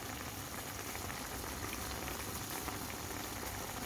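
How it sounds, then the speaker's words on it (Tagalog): A pot of fish stew with tomatoes and a little oil simmers steadily, producing a close, continuous bubbling hiss with no voices. "Masarap kong daming kamatis ang ating pinangat na isda"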